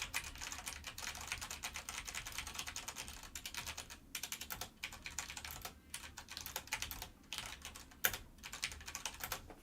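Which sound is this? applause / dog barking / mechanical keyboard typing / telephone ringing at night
mechanical keyboard typing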